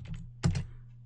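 Keys tapped on a computer keyboard while entering an ADB command, a few quick clicks followed by a louder double clack, close and alone over a low hum.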